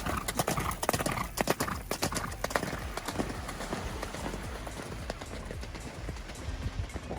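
Horses' hooves clip-clop rapidly across the sand nearby, a busy overlapping patter of several animals with a whinny among the hoofbeats.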